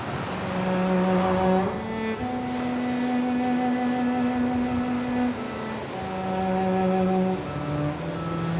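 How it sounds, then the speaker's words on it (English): Construction trucks working beside the BR-101 highway, cutting into the surrounding hills, give off steady engine rumble and a repeated reversing beep pattern whose tones shift pitch, heard at moderate distance. "Every day, trucks dig, flatten, and hollow out the surrounding hills just a little more."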